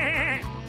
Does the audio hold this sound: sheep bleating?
yes